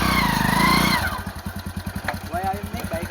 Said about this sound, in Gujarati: બાઈક તો આવે બાઈક આવે